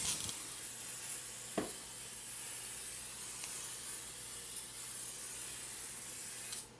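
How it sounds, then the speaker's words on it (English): Lysol disinfectant sprayed over the inside of a plastic bin, a continuous aerosol hiss running nearly the whole time, close and steady, with a brief knock partway through. "now what you guys wanna do is you actually wanna spray the entire inside with Lysol"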